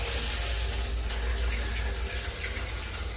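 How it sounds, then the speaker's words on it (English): A hotel bathroom tap in Bangkok runs steadily, a dense, continuous hiss of water pouring into the basin, close and unbroken throughout. "Let's check out the water and see if the pressure is good and also if the water is hot."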